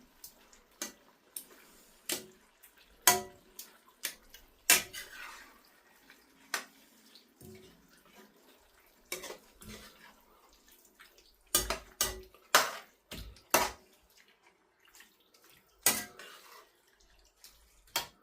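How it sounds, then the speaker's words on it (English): Crushed tomatoes are poured over a Mexican bake and stirred in, heard as scattered close clinks and scrapes of a utensil against the dish with soft wet sloshing between them. "the tomatoes that we crushed. We're going to pour those over the top. Good. Lovely. And mix them in thoroughly"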